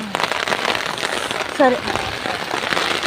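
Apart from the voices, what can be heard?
heavy rain on tin roof sheet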